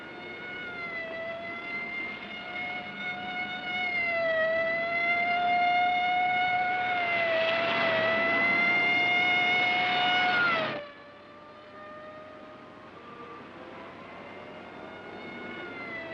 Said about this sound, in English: Lay on the siren, give it everything.